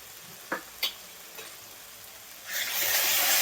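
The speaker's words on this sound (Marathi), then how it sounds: "आता याच्यामध्ये आपण लसूण आल्याची पेस्ट घालायची 2 चमचे" Garlic-ginger paste hits a pan of fried onion-tomato paste for peas keema: a few soft clicks, then a loud, steady sizzle that starts about two-thirds through and keeps building.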